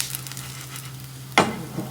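Sandwiches spread with chilli sauce and filling frying in a pan, a soft low sizzle under a steady hum that breaks into a sudden brighter hiss near the end, close and fairly quiet.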